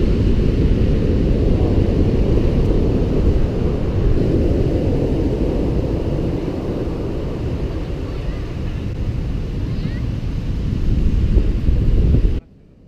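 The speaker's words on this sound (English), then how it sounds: "You'll be hearing a lot of wind in this video" Strong wind buffets the microphone on Reynisfjara black sand beach in Iceland, a loud, steady roar with big waves crashing beneath it, continuous and close throughout, then cutting off abruptly at the very end.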